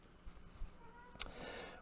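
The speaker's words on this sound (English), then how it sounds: "My cat's making noise over there if you hear her in the background." A pet cat meows faintly in the background of an indoor room, one short distant call near the end of a quiet stretch.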